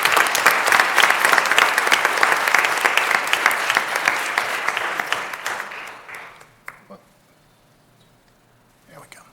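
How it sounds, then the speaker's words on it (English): Loud applause from a crowd at a school board of education meeting, dense clapping that holds steady for about six seconds and then fades out, leaving near silence with a brief stir at the end. "Let's give our middle school students and staff a big round of applause."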